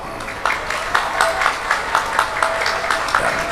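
Students at a lively Islamic religious gathering applaud, a rhythmic burst of clapping with regular beats, moderately loud and steady for a few seconds.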